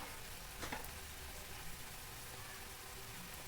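Ginger garlic paste frying in a pan during a chicken curry, a faint, steady sizzle with a few soft scraping stirs.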